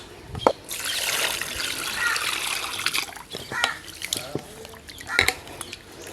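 Water trickles and splashes as cleaned korameenu (murrel) fish are rinsed, with irregular sloshes and drips close by and a few sharper splashes; no speech.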